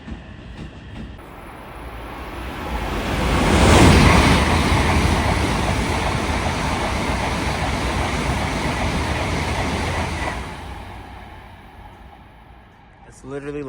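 Strong wind roars past a Kei van travelling at speed, a loud broadband rush that swells to a peak and holds steady before easing off near the end.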